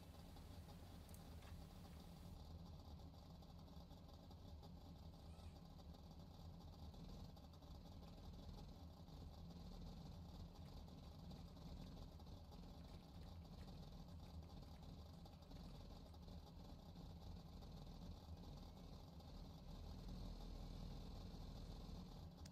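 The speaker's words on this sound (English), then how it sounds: "all these MINIMAX engines just idle away, and the guys revving it up a bit" MINIMAX kart engines at a junior race meeting at Zwartkops, South Africa, idle steadily together with occasional light revs, a dense continuous drone that stays fairly distant and moderately loud throughout.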